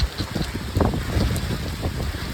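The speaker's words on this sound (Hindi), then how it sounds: "कितनी तेज़ हवा चल रही है देखो।" Strong wind gusts buffet a mountain road in Pauri Garhwal, a loud, rough roar rushing and battering the microphone in uneven surges, with no speech.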